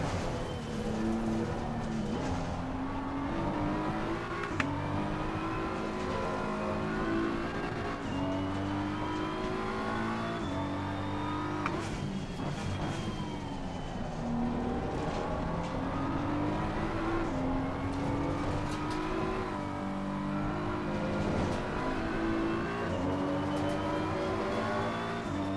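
Race cars in Assetto Corsa Competizione, engines revving up and down through gear changes with rising and falling pitch, a continuous loud whine with other cars audible, no talk.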